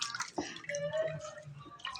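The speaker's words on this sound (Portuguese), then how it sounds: "Agora eu botar água." Water is poured into a cooking pot while Haitian dough balls are being prepared, a brief gurgling splash with a few drips, close and fairly soft.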